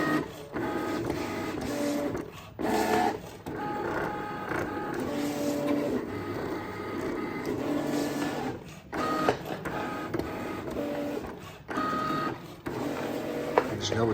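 A Cricut cutting machine cuts vinyl fishing decals, a steady whirring, printer-like motor drone with rhythmic carriage movements and brief pauses, close and continuous throughout.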